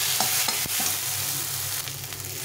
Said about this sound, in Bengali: এইভাবে ভালো করে কষিয়ে নিতে হবে